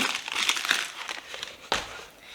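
Protective paper wrapping around packed items in a parcel crinkles and rustles in short bursts, close by, with a sharper crackle near the end; no voices.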